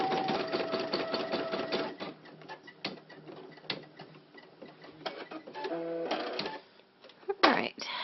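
Brother PE770 embroidery machine stitching an applique outline on a shirt, a rapid rhythmic mechanical ticking and clatter with short pauses and a beep-like tone, while a person talks.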